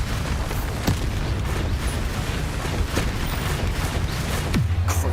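Bombarda explosion spells go off in Hogwarts Legacy, three separate blasts spaced a couple of seconds apart, each a sharp burst with a falling whoosh, over a steady rumbling game soundscape.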